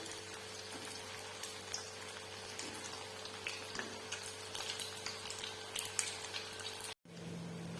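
Medu vada made from semolina sizzles as it fries in hot oil, a quiet, steady crackle with scattered small pops, briefly cut off near the end.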